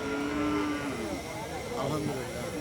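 A skinny calf moos in a long, drawn-out call, then lets out a second shorter moo, close by amid a noisy outdoor crowd at a cattle market in Jamalpur, Bangladesh.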